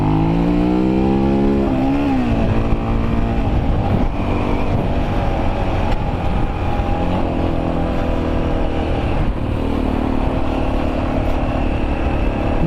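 An XL350R motorcycle ridden hard and popping a wheelie, its loud engine revving up and down continuously with rising and falling pitch and no voices.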